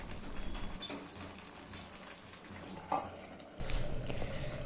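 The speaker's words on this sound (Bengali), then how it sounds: "এখন আমি পরিমাণ মতো লবণ দিয়ে হালকা নাড়াচাড়া করে আবার ঢাকা দিয়ে দেব" Lau (bottle gourd) chicken curry is stirred in a pot, with a steady low bubbling sizzle and soft scraping under it, then a brief clink and a louder burst of cooking noise near the end.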